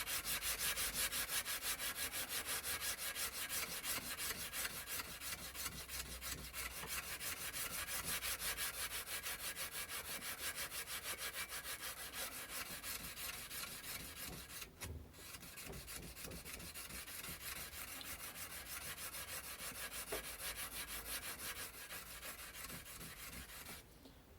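Hand sanding shaped knife handle scales with abrasive paper, a close, quiet, rhythmic rasping of rapid back-and-forth strokes continuing for over twenty seconds with a brief pause midway.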